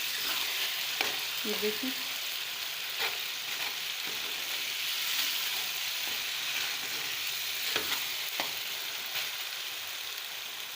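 A tadka for mustard greens saag fries in a pan with a bright, constant hiss and scattered crackles, close up, and someone speaks briefly over it.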